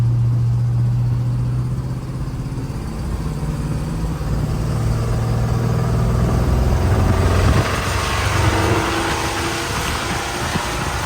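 A 1972 Dodge W200 Power Wagon truck drives along with a steady, loud mid-range engine drone that rises and shifts partway through, with no talking.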